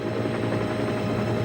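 A TOMY Thomas and Friends toy helicopter buzzes with a steady, loud, close whirring drone that runs unbroken for the whole moment, with no voices over it.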